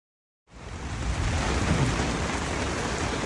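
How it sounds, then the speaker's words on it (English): Heavy rain comes in after a moment of silence and becomes a dense, steady roar, with low rumbling thunder mixed into the downpour, heard from inside an inflatable tent during a thunderstorm. "we are in the middle of a thunderstorm right now, and it's thundering and lightning."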